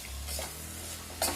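Ground spice masala stir-fried in a pot, a continuous sizzle with low steady hum beneath and a couple of scraping stirs, close and fairly loud.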